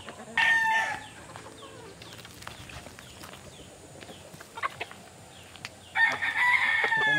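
Gamefowl roosters at a game farm crow loudly near the start and again at the end, with scattered clucks and other farm noise in between and no voices.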